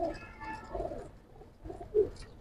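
Soft, low coos from a giribaz high-flyer pigeon in a loft, a few quiet murmuring calls spread over a couple of seconds against faint background noise.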